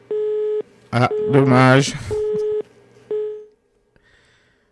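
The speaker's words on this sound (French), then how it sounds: "Coupure au niveau du téléphone." A telephone busy tone plays as repeated steady beeps after the line drops, interrupted by a short burst of speech, with the tone pulses continuing near and clear before fading to quiet.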